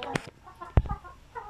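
Pure Zampen native chickens give a few short, scattered clucks close by, with quiet gaps between them.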